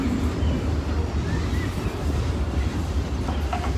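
An amusement park train rumbles steadily along its rails, a continuous loud roll with faint clattering and wind noise throughout.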